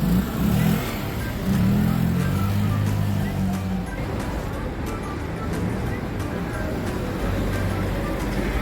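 A Honda Click scooter engine idles and revs in short bursts up close after a fuel pump repair, with a steady low drone between rises and some talk in the background.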